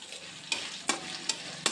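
Three medium onions, cut medium, fry in a pan for brinjal palya with a soft steady sizzle, while a spoon scrapes through them in four quick, evenly spaced strokes close by.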